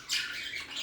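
A peacock's shrill, squawking call, one sustained bright cry lasting under a second, fairly faint and heard on its own without talk.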